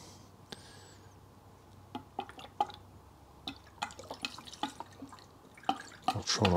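Diesel fuel trickles and drips while being poured into the fuel filter of a 1994 Land Rover Defender 2.5 Tdi, with scattered close splashes and small liquid ticks that grow busier toward the end.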